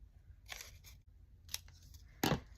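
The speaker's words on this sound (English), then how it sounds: "I'm going to snip the corners off on the longer parts of our strips" Scissors snip the corners off paper strips cut from a paper towel roll for a mini junk journal craft, three crisp close cuts spaced about a second apart, the last one loudest.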